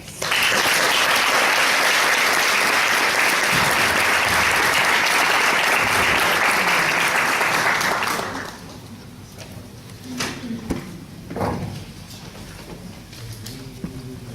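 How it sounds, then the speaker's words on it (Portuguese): A conference audience gives sustained applause to welcome a professor at the opening of a science and spirituality congress. Dense clapping runs strongly for about eight seconds, then stops abruptly, leaving room noise and a few faint sounds. "para que a gente possa receber o professor Mário Simões com uma salva de palmas"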